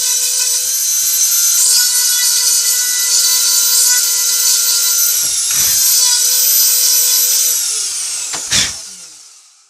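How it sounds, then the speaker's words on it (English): A Dremel rotary tool carves a wood spirit face into wood, a loud, continuous high-pitched whine held close up, shifting slightly in pitch, then briefly spiking and spinning down at the end. "So this beginner Dremel wood carving, we're almost done."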